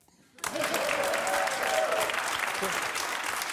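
Sudden audience applause with cheering breaks out after a brief quiet moment at a comedy show, a dense, loud wash of clapping sustained to the end, with voices mixed into the crowd noise.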